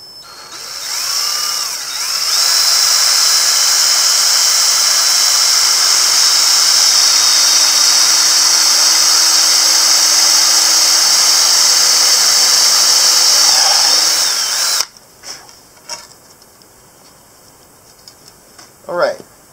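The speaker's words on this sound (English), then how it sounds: "I'll go ahead and put one screw on the bottom as well." A power drill whirs loudly and steadily for about twelve seconds driving a screw into an awning board, then stops, leaving scattered clicks and handling taps nearby.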